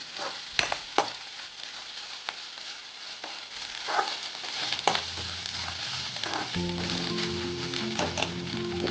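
Masala frying in a pan for a black chickpea curry, a steady close sizzle with occasional scraping stirs. A low, droning hum joins near the end.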